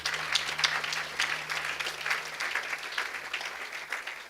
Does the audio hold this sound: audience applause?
yes